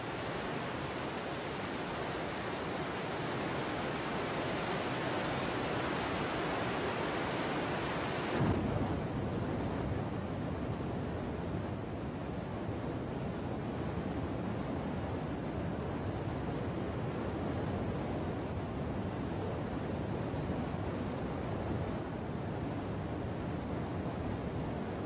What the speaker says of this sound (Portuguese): A cachoeira de Hiranami está na parte superior do rio Tadame. É uma cachoeira grande